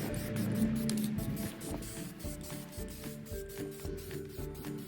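Plasti Dip being sprayed from an aerosol can onto Nissan Xterra Pro-4X emblems, a close, steady hissing spray with short bursts and faint handling noises between passes.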